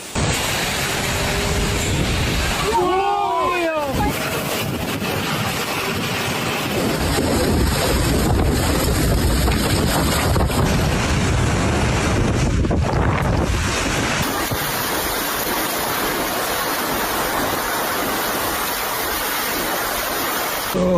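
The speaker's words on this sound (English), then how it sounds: "It was nothing serious at the beginning, just strong winds." Strong typhoon wind roars and buffets the microphone in a loud, continuous rush with gusting surges throughout, and no one speaks.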